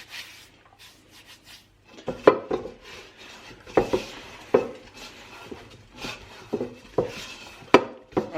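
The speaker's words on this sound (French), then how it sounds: "On ramasse bien toute la farine qui est au fond." A hand works through flour at the bottom of a bowl while kneading homemade pasta dough: irregular close scrapes, knocks and rubs after a quiet opening.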